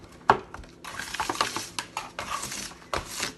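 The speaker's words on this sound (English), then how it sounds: "keep mixing until everything is really stuck together" Homemade fake snow made from conditioner being mixed and stirred by hand in a bowl, giving soft, irregular scraping and patting sounds with a few clinks, close up and fairly quiet, with no talking.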